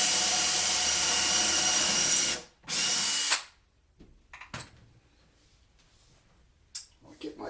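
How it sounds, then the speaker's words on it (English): A power drill whirs loudly for about two seconds drilling a pilot hole in wood, pauses briefly, then runs again before stopping, followed by quiet handling noises. "Drill my pilot hole."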